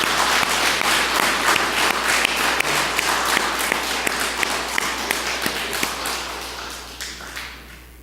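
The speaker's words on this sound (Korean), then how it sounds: "감사 박수 한번 합시다." A church congregation bursts into lively applause, dense clapping that is loud at first and gradually thins out and fades near the end.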